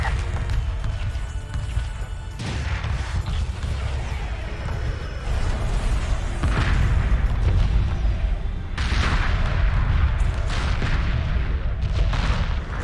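Heavy booming phased cannon array fire in the video game Homeworld pounds repeatedly over a dense rumbling battle din, loud and continuous with some faint voices mixed in.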